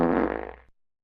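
A single loud, sputtering fart lasting about half a second, with rapid flapping pulses that fade out abruptly into silence.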